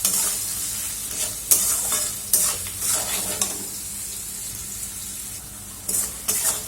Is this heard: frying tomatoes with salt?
yes